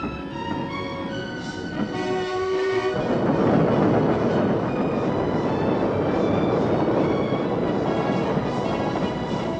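A wiring train made of old passenger carriages rolls along the rails, giving a steady, dense rumble and clatter that swells after a few seconds. A brief horn-like tone is heard early on.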